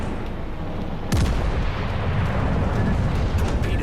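Heavy naval gunfire in the World of Warships game, with the battleship Duke of York firing at cruisers: a sudden deep boom lands partway through over a constant dense rumble of battle noise, with no talk.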